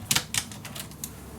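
Scissors snip through paper for a mini album craft project, a few sharp close cuts in quick succession followed by softer, fainter snips.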